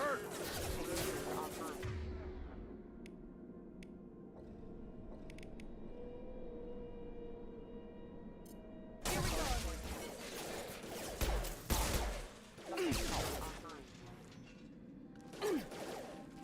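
Gunfire bursts from hostile mechs in the sci-fi shooter Mass Effect 2 Legendary Edition, sharp repeated volleys and clattering impacts in several clusters, loud against a quieter game backdrop, with brief pauses between exchanges.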